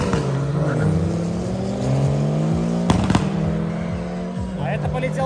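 A Citroen Saxo launches down a drag strip, its engine revving loudly with rising gear pulls and a couple of sharp pops, while someone talks over the noise.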